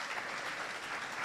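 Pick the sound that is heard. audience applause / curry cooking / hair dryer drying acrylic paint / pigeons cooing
audience applause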